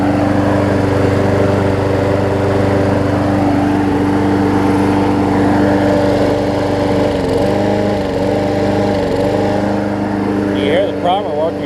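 The engine of a Briggs and Stratton Quantum push lawn mower runs steadily close by, a loud continuous drone with slight wavers near the end, with some talk over it.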